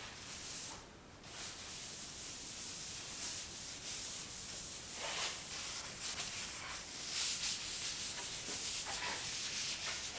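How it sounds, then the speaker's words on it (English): Excess wood conditioner is wiped from a live-edge wooden entry bench, a soft continuous rubbing and swishing of cloth on wood, faint and close, with no talk. "Now I'm just going to go ahead and lightly kind of wipe it just to get rid of any excess that's sitting on there."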